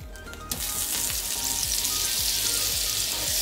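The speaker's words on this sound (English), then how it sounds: "Once the meatballs are out, I am going to add my butter." Butter hitting a hot skillet after meatballs have been browned, a sudden loud sizzle that settles into steady close frying with faint scraping, no voices.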